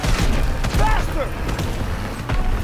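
Gunfire from an armored train shooting at the player in Call of Duty WW2, a loud burst of rapid shots and booming impacts mixed with rumbling vehicle noise and shouting voices.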